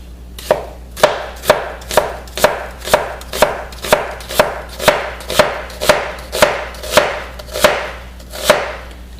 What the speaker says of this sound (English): I'm going to start from one side, work all the way through, cutting 1/8 of an inch slices.